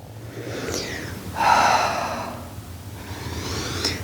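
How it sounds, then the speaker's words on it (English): A big, breathy exhale during a Pilates exercise, a single long whooshing breath that swells and fades, close and fairly quiet with no talk over it. "Nice big exhale"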